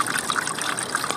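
Rainwater runs through a pipe from a street curb in a constant gushing rush, close and steady, with no voices.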